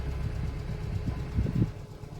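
Steady low rumble of an idling Renault 4 engine with its cooling fan whirring, on Saint Helena, continuous and fairly close, no talking.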